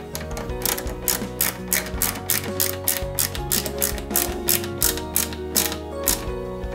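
Screws are driven into a 1/8 scale Alpine A110 1600S model, a close, dry ratcheting click repeating in quick rhythmic bursts, with no talking over it.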